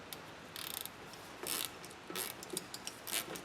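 A ratcheting wrench turns a caliper bolt on a 2004 Chevy Tahoe brake, giving quick clicking bursts in short spaced runs, close and fairly quiet.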